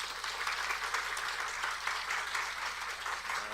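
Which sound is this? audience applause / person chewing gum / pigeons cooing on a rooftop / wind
audience applause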